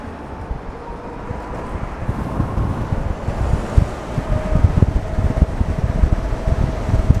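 A 2022 Alrendo Bravo TS, a 125cc-class electric motorcycle, runs at full throttle in city mode against its limiter. A faint, steady motor whine sits beneath heavy, gusting wind rush from riding, with no talking.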